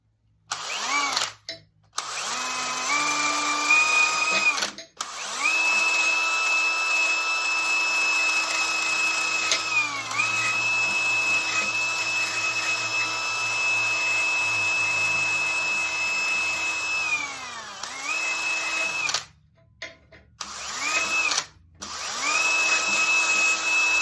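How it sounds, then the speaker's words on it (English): A drill spins a wire brush against a metal chain-stem rose sculpture with a continuous grinding whir, its pitch dipping under load, broken by a few brief stops and restarts. "I just take a wire brush on a drill and"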